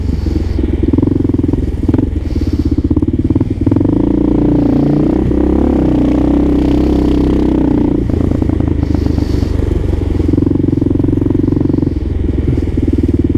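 A carbureted Kawasaki KLR 650 motorcycle engine idles steadily nearby in the Bronx on a cold day, a loud, even thumping drone with a brief rev partway through and rattling clatter, no talk over it.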